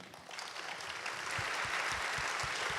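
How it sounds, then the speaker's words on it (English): An audience at a fireside chat about lessons from an acquisition claps for Eli Aleyner, the applause fairly quiet and distant, swelling after a soft start and continuing steadily to the end. "Can I get a round of applause for Eli?"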